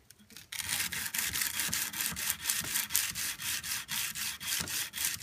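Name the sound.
hand sanding a knife blade with 110 grit sandpaper and oil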